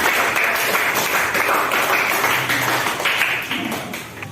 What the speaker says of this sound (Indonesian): Oke, tepuk tangan juga kembali.